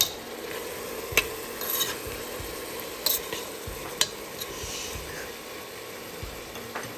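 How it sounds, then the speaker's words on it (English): Onions and salt fry in an open pressure cooker while a spoon stirs them, giving a soft steady sizzle with scattered scraping clinks against the pot. "Give it a good mix."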